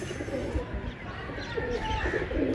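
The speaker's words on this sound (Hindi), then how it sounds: "अभी तो बहुत कबूतर हैं दोस्तों ऊपर।" Pigeons coo in repeated soft, throaty phrases, several birds overlapping against a continuous outdoor background noise.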